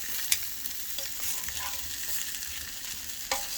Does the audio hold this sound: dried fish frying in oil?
yes